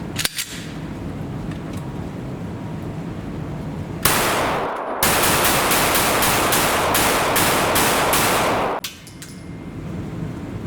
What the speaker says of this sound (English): We'll shoot without a mag in, no mag.